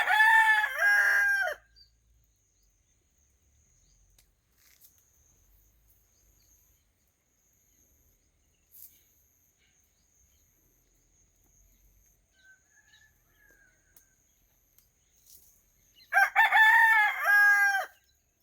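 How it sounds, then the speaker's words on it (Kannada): A farm rooster crows twice, loud and close, once at the start and again near the end, with a long quiet stretch of faint background ticks and scrapes between the calls. "ಕೂಗ್ತಾ ಇದೆ ನಮ್ಮ ಕೋಳಿ ನೋಡಿ"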